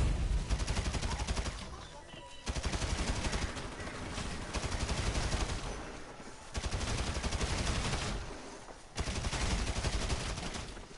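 Long automatic bursts of AK-47 fire in a video game, loud and rattling, broken into several sustained volleys separated by brief pauses, with voices talking faintly underneath.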